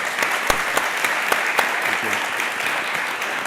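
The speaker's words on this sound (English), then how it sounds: "Give it a round of applause, please, for Rodney Petersen and Kerry-Ann Barrett." An audience at a cybersecurity conference applauds after a fireside chat, steady clapping with a few sharp louder claps standing out, some murmuring underneath.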